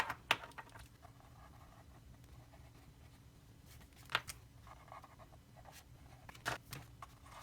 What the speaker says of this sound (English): this is just a test of how straight can I write without any lines